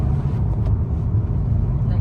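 A Kia Sonet cruising on the GT Road national highway, heard from inside the cabin as a steady low road and engine rumble, with people talking over it.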